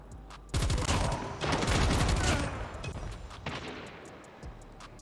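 Hip-fire from a gold S36 with no attachments in Call of Duty Mobile: loud, close bursts of rapid gunfire that fill the first half, then trail into sparser shots and clatter.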